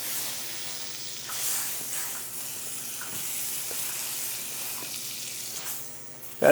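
Butter sizzling in a warm cast iron skillet on medium-high heat, a steady soft hiss of frying throughout with faint clinks and no talking.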